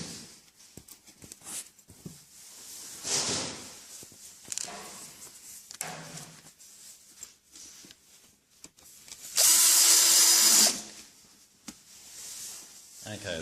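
Power drill driving screws through a door hinge into wood, a loud high-pitched whirring burst of about a second near the middle, with softer handling and rubbing noises around it.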